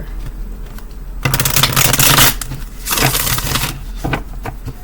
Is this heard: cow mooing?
no